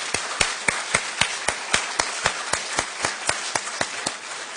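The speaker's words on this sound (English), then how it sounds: "Go ahead, clap." Sparse clapping from a small audience, a steady run of single distinct claps spaced evenly for a few seconds, fairly faint.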